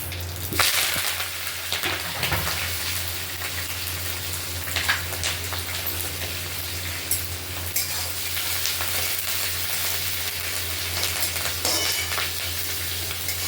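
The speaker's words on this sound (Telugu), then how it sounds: "ఇందాక ప్లేట్లోకి తీసుకున్న పదార్థాలన్నీ ఆ నూనెలో బాగా వేయించుకోవాలి." Ingredients for spicy rice frying in hot oil in a pan, a dense, steady crackling sizzle with scattered stirring clicks and pops throughout, no voices.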